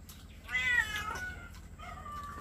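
A cat meows up close in a Filipino home kitchen, one loud drawn-out meow followed by a shorter, fainter second call, with no talking.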